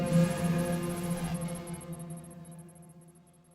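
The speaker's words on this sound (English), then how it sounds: "Whales are amazing singers of the aquatic expanses." Whale song underwater: a sustained, harmonic tonal call that is loudest at the start and slowly fades over a few seconds, with no voices present.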